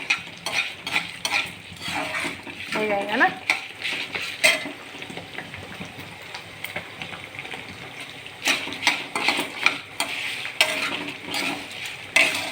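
Spices roast in a pan under steady stirring, with the spoon scraping and clattering against the metal in uneven bursts over a soft sizzle and a brief spoken word.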